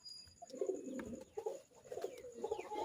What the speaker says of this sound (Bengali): কবুতরগুলো মাশাআল্লাহ অনেক সুন্দর